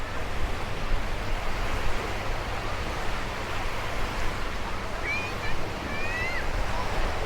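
Steady roar of ocean surf washing onto Bang Saen beach, Thailand, continuous and broadband, with wind noise and faint distant voices.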